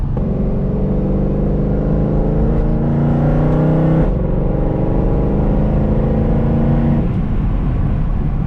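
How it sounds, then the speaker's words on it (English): Straight-piped Mercedes C63 AMG V8 driving, loud and close throughout, with revs climbing in long pulls broken by gear changes near the middle and end; no talking. "Let's go for a little drive, get this thing warmed up."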